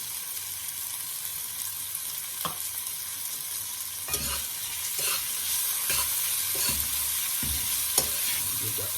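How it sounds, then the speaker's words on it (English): Curry shrimp with hot peppers and ginger sizzling in a pan while a utensil stirs, giving a steady frying hiss with repeated soft scraping knocks, close by and without talk. "Give that a stir."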